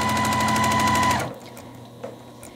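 Sewing machine stitching a churn dash quilt block, a fast even buzz of needle strokes running loud for about a second before stopping abruptly, followed by a faint click.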